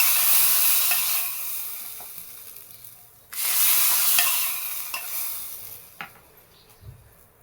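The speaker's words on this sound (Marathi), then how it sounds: "हे बघा तडतडलेली मोहरी आपण ह्याच्यात टाकून घेऊया मस्त आवाज येतो" Mustard seeds crackle in hot oil for a tempering poured over a carrot, onion and tomato koshimbir. A close hissing sizzle fades, cuts off, then bursts back loudly with scattered sharp pops and stirring, and no one speaks.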